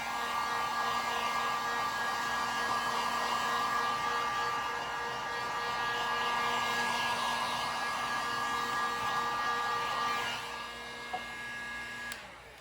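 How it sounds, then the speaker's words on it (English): A heat gun runs on its high setting, giving a steady, loud whooshing blow with a constant whine. The tone shifts slightly near the end as the gun is moved or switched off. "Turn the heat gun on high."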